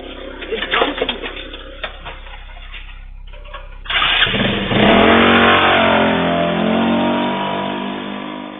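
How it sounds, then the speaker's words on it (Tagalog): A motorcycle starts up and speeds away from a storefront on CCTV, with the engine revving up suddenly after some bird cooing and clatter, then roaring loudly before slowly fading. "sumakay sa motor at mabilis na tumakas"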